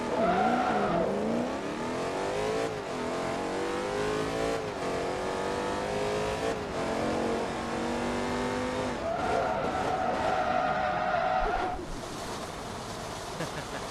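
Car exhaust in the Forza video game, revving hard and loud with rising and falling pitch sweeps, sustained engine roar, brief tire noise, no talking.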